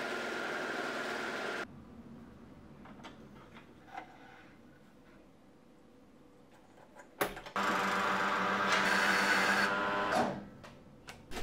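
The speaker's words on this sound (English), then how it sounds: "I had to overlock all the raw edges." Overlock machine serging the raw edges of curtain fabric for a ball gown, running in fast, loud whirring bursts that stop and restart, with quiet handling noises in between.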